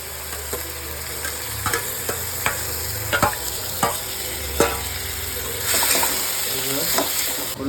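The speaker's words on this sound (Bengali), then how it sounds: "তো এবার তেলের মধ্যে টমেটো, পেঁয়াজ বাটা, আদা, রসুন, কাঁচা লঙ্কা বাটা সব দেওয়া হয়েছে" Tomato, onion, ginger, garlic and green chilli paste frying in oil for Bengali chicken kasha, a steady sizzle with repeated sharp spoon scrapes and stirring knocks against the pan, close and moderately loud.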